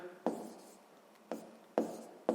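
A pen writes on paper while working a 6th-grade math exercise, with four short sharp strokes spaced unevenly between soft scratchy rubbing, close and quiet, with no talk.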